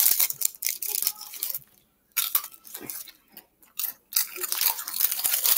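Someone chews crunchy baby food close to the mic, giving irregular bursts of crisp crunching broken by short quiet pauses, with no talking.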